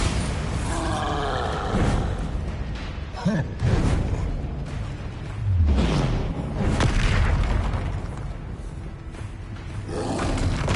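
Spell blasts from the Hogwarts Legacy video game, Confringo and Bombarda, booming and roaring in repeated bursts with fiery whooshes amid busy combat noise over several seconds.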